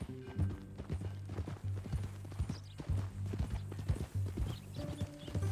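Horse hooves clip-clop at a steady walking pace in Red Dead Redemption 2, a regular sequence of hollow knocks under a low droning game soundscape, with faint talk in the background.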